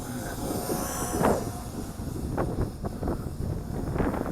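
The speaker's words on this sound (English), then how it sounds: "And boy, is that wind picking up." Wind blows strongly outdoors during a drone flight test, a loud continuous rumble buffeting the microphone, with gusts surging over a low roar.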